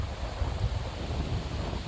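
Gusty wind buffets a microphone outdoors on a rainy, stormy day on a hiking trail, a steady low rumble with no talk.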